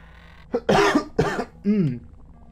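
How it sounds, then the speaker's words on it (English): Several harsh coughs in quick succession, close and loud, ending in a throaty, voiced cough. "Nice cough."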